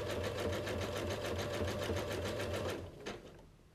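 Sewing machine stitching a wide, short zigzag over a raw fabric edge, a loud close run of steady needle hum and rhythmic clatter that slows and stops near the end.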